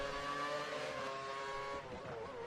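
McLaren race cars in a racing video game, their engines a faint, steady high whine that holds for a couple of seconds with no talk over it.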